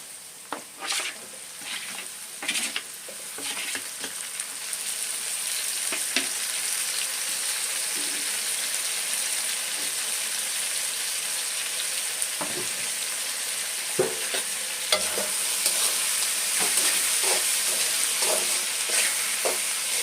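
Onions frying in a pan, a constant sizzle with scattered sharp clicks and scrapes of a spatula stirring against the pan over twenty seconds, close and moderately loud, with no talking.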